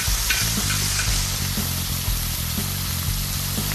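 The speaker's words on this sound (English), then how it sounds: "Inside that olive oil, get our peppers over here, get some of that fat from the sausage to get into the flavor of the veggies." Peppers fry in olive oil and rendered sausage fat on a grill, filling the air with a loud, steady, close sizzle and a few faint stirring clicks, with no one speaking.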